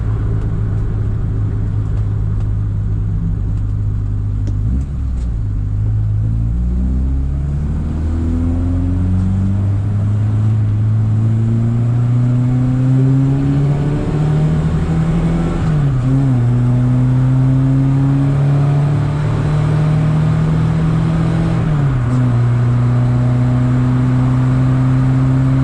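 An engine revs up through the gears on a drive, loud and continuous, its pitch climbing and then dropping at each shift across the run, with no voices.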